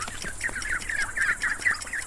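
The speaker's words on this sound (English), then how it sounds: "Ducklings." Ducklings peeping in a quick run of high, thin chirps, steady and close, with no other sounds around them.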